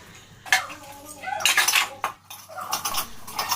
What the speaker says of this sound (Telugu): టీ తాగేసినవి అన్నీ కడిగేస్తున్నాయి.